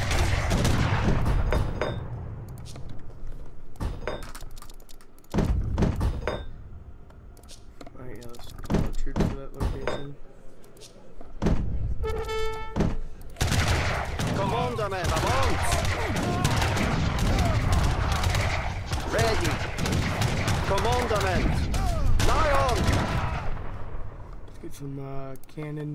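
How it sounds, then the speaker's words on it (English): Cannon fire in the real-time strategy game Age of Empires 3, with a British army in battle. Repeated loud booming shots and impacts mix with clashing combat noise and game voice callouts over a steady battle din. "Cannons going."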